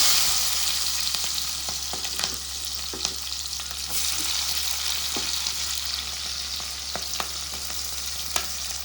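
Onions sizzle in oil left over from frying fish, a steady broadband hiss with scattered crackles and occasional stirring clicks, close and continuous with no talking.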